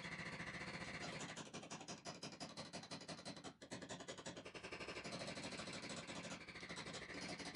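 A knockdown tool taps out a dent in a car door, with rapid steady strikes running almost continuously, close and fairly quiet, with a brief pause midway.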